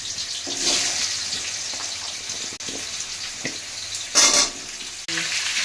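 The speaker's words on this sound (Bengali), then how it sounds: "ভেজে তুলে নেবো আলু আর মিষ্টি কুমড়ো আগে ভেজে তুলে নেবো" Potatoes and pumpkin fry in hot oil, giving a hissing sizzle that swells in uneven bursts, with a loud flare about four seconds in and a few soft clinks between.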